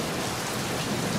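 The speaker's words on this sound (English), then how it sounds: "Good old rain." Rain pours steadily during an Oklahoma spring rainstorm, a dense even hiss of drops on surfaces close by with no voices.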